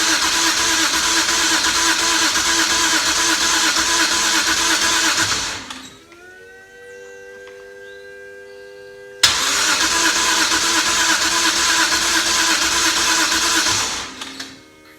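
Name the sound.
BMW N54 engine cranking, trying to start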